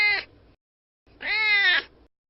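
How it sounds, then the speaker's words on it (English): A real cat meows twice, close and clear: first a short cry, then after a brief silence a longer, drawn-out meow. "putting real-life cat noises on top of the cartoon"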